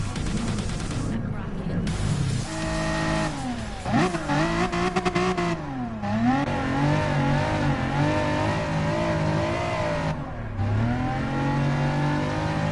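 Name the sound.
race car engine revving in GT Sport video game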